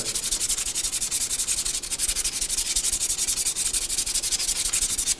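Sandpaper scrubs the serpentine belt tensioner mounting point on a 1998-2011 Ford Ranger 2.3L four-cylinder, making quick, even back-and-forth rasping strokes, close and steady, with no talk.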